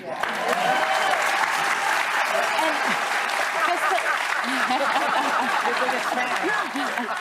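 An audience at a show featuring a public figure breaks into loud, sustained applause, with scattered chuckles and voices mixed into the clapping.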